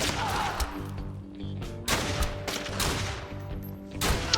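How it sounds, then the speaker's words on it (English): Rapid rifle gunfire in the Fallen Earth game, several sharp shots in quick bursts with layered echoing blasts and background game sounds, fairly loud and without speech. "it's a really quick shooting rifle"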